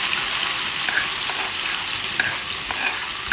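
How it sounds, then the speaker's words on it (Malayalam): Mustard seeds splutter in hot oil, a steady close sizzle dotted with small scattered pops and crackles, with no talking. "കടുക് പൊട്ടിച്ച്"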